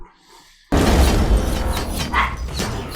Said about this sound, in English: one of the dogs is going ballistic